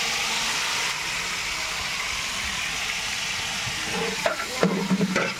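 Food frying in a large pot, probably during temple festival cooking, sizzles steadily while being stirred, with clanking scrapes of the stirring utensil growing louder near the end; no one talks.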